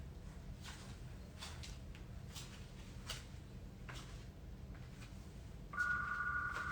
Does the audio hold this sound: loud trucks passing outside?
no